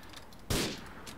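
A single sharp gunshot blast against a tank in Grand Theft Auto IV, one loud burst with a short decaying tail over quiet game ambience.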